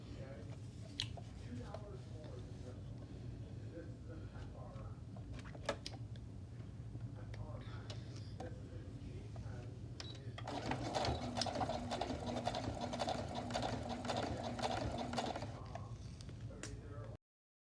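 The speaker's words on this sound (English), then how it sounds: "And now I'm going to take this to my machine and sew along the edge." A sewing machine stitches along the edge of fabric for a cushion's handle, a steady mechanical whirr with rapid needle ticking that grows louder and busier in the second half, near and continuous.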